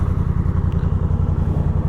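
Honda CB500F motorcycle engine idling nearby, a loud, steady low-pitched pulsing throb with an even rhythm and no rise or fall in revs.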